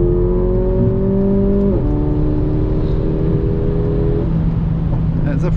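Mercedes-AMG CLA45 with a 2-liter turbocharged four-cylinder engine accelerating hard, loud engine tone climbing in pitch through gear changes, heard up close from inside the car.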